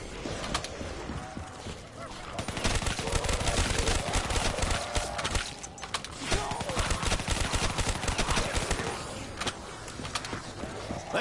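Rapid SMG gunfire in a Call of Duty zombies match, dense bursts of automatic shots crackling almost continuously, loud and close, with game noise around them.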